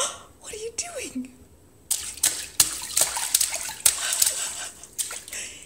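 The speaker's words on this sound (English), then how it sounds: "Oh boy, golly, are you splashing?" A young child splashes water in a bathtub at home: an adult's soft voice comes first, then repeated close, uneven splashes and slaps of water follow.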